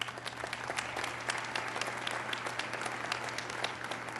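A graduation ceremony crowd gives a round of applause, distant and fairly faint, with dense overlapping claps continuing steadily throughout over a low hum.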